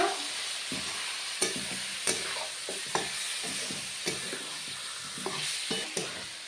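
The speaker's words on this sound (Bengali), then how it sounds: "হলুদ গুঁড়ো, লবণ ভেজে নেব।" Turmeric powder and salt fry in hot oil with a constant soft sizzle, broken by repeated scrapes and taps of a stirring spoon against the pan.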